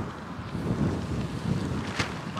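Wind gusting across a large homemade parachute spread outdoors, a steady rushing, buffeting noise with a brief louder flap near the end and no talking.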